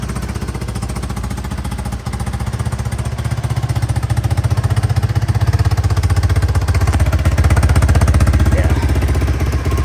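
A 1986 Honda 200X four-stroke engine idles after a kick start with a little choke on a cold motor, a loud, steady rapid thumping that runs throughout and builds slightly toward the end, with one brief spoken word.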